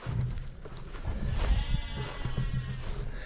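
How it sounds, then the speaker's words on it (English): Sheep on a small farm bleat loudly and close by, several overlapping calls over rustling and shuffling around the feeding area, where a turkey is also kept. "So I already fed all the crazy sheep and Xena."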